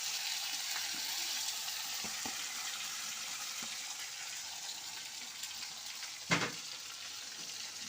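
Chopped tomatoes hitting hot oil with cumin seeds in a village kitchen, giving a steady, fairly soft sizzle with faint scrapes and one sharper clatter near the end.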